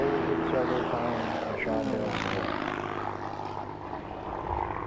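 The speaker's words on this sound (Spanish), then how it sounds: "cuando pasó Jack Williams en el Focke-Wulf a unos 30 a 35 pies a ras de suelo" A Focke-Wulf 190 fighter passes low over an airfield, its propeller engine droning loud and steady throughout with a sweeping pitch shift as it goes by.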